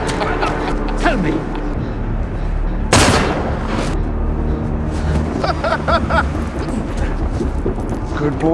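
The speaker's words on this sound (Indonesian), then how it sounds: "Lalu tiba-tiba seorang pria berbaju polisi menembak Cooper dari belakang." A policeman shoots a man from behind in a film scene: one loud, sharp gunshot cracks out mid-scene, cutting through a dense bed of dramatic score and background film sound.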